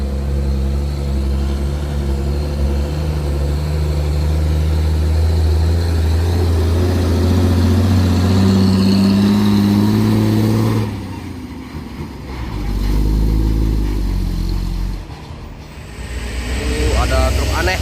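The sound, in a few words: Toyota Kijang Kapsul car engine climbing a steep hill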